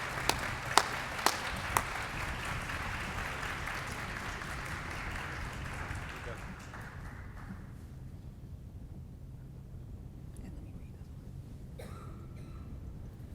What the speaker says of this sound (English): Let us give a great round of applause as Donnell Bell